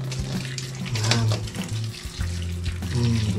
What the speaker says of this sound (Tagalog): kumukulo na po yung tubig na ating pangbandi dito